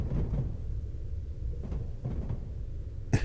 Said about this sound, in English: It's all we've got is the track noise.